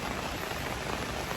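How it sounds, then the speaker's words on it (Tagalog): Heavy rain pours steadily as a dense, even hiss of broadband noise that stays constant and fairly loud throughout, with no voices over it. "Malakas ang ulan."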